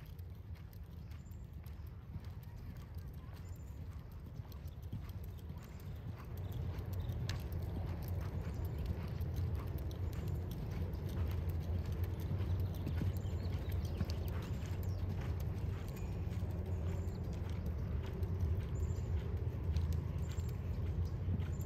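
Horse hooves at an extended lope in a ranch pleasure class, a steady, continuous patter of footfalls heard at some distance over an even ambient background, with no talking.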